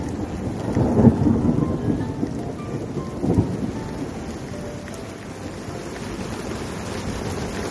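Heavy rain pours steadily at a campsite in Benidorm, Spain, with low rumbles of thunder swelling near the start and again a few seconds later, then a continuous dense patter with no voices.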